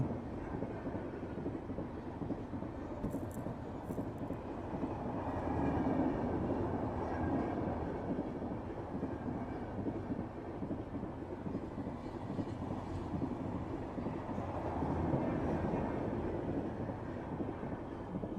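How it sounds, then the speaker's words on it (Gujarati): A train rumbles past a closed railway level crossing for a long stretch, a continuous low roar of wheels and carriages swelling slightly as cars go by. "અહીંયા થઈ ગઈ છે બંધ ફાટક અને નીકળે ટ્રેન"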